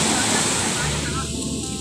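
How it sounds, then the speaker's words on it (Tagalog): Heavy sea surf roars steadily close by, a broad rushing wash of strong breaking waves with no clear pauses. "Nakaate sila ng malakas na alon."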